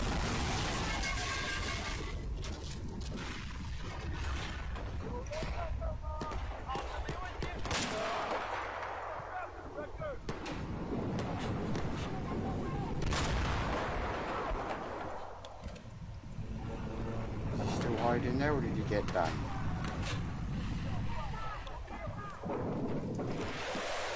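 Video game gunfire crackles in bursts and rapid volleys, mixed with thuds and booms, running continuously under people talking.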